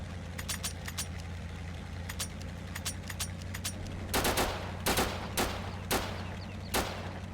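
Rapid 30mm autocannon bursts from a Communist armored vehicle in Total Conflict: Resistance, sharp clustered shots over a steady engine drone, spaced bursts growing louder and heavier toward the end.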